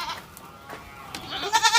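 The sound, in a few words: Anglo Nubian goat bleating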